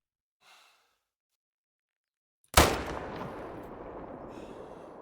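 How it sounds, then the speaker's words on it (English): A single rifle shot fired at a roe deer in the hunting game theHunter: Call of the Wild, a sharp loud crack followed by a long rolling echo tail, preceded by a faint soft breath. "I'm going to take a shot at him"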